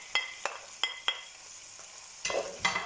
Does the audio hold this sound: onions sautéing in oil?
yes